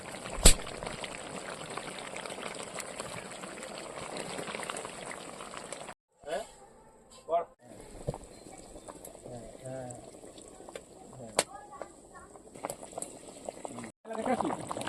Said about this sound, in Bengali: মাংস কষার সময় আওয়াজটা যে আসে খুব সুন্দর লাগে